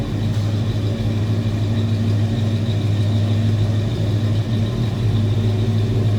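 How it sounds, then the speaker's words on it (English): A 1986 Chevrolet K10 Silverado 4x4 pickup with its 5.7-liter 350 V8 idling low, a steady deep rumble with a constant low drone, close and even, with no voices. "Just want to let you listen to it on a little lower idle also."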